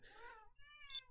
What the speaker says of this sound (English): You can probably hear him meowing at me.